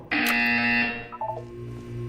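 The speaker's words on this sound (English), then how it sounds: "When you hear the buzzer, look down at the floor." Loud electronic buzzer from the video game Portal sounds once in a sustained harsh tone, then cuts off into a few short tonal blips and a low hum.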